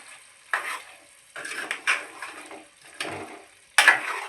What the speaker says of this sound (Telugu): ఇప్పుడు కొద్దిగా గ్యాస్ స్టవ్ కొద్దిగా సిమ్లో పెట్టుకొని బాగా వేగనివ్వాలి